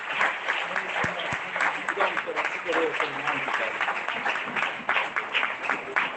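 A church congregation breaks into loud, sustained applause, a dense wash of many hands clapping together throughout.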